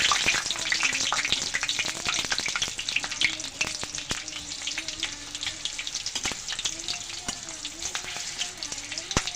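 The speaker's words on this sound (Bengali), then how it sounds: "এবার এর মধ্যে দিয়ে দেবো দুটো দারচিনি দুটো এলাচ দুটো চেরা কাঁচা লঙ্কা তেজপাতা এগুলো অল্প একটু ভেজে নেবো" Cinnamon sticks, cardamom pods, slit green chillies and bay leaf fry in mustard oil, with a steady crackling sizzle, scattered sharp pops and a faint background hum.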